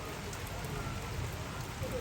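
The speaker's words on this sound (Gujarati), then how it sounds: "ગાજવીજ સાથે ધોધમાર વરસાદ પાટણમાં લાઈવ તમે જોઈ શકો છો" Heavy rain pours steadily on surfaces in Patan during a thunderstorm, a dense continuous hiss of drops with no distinct thunder crack, no speech.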